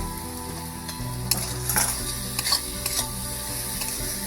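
Tomato added to cauliflower chili frying in a pan, a steady sizzle with repeated scrapes and clinks of a spatula stirring against the metal.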